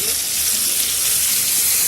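Cauliflower frying in hot oil as chopped tomato goes in, giving a close, dense, continuous sizzle and crackle with no break.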